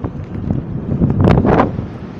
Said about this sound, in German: Zum einen der Sturm und zum anderen noch die Geschwindigkeit dazu von dem Kutter.